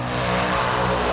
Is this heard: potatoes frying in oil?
no